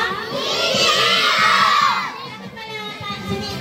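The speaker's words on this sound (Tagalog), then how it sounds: "Sumisigaw kayo?" Crowd of children shouting and cheering together, loud and continuous over a steady low rumble, as if near a moving tricycle on the way to school.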